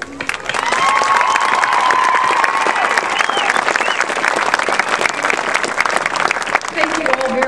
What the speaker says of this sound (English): And we do applaud our mighty warriors.